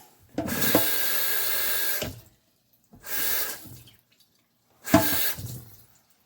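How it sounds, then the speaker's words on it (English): Water pours in three separate bursts into a pan of meatball mixture, a close splashing rush that stops and starts again with short gaps, and no voices. "I'm going to add some water to it."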